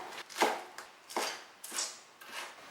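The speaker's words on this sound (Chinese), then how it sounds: "再切点葱白" A kitchen knife chopping scallion whites on a cutting board, five crisp strokes spaced about half a second apart, close and clear with nothing else around them.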